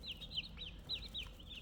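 A flock of about 103 meat-bird chicks and one layer chick chirps in quick, repeated high peeps, several overlapping calls in bursts, fairly near against a low background rumble.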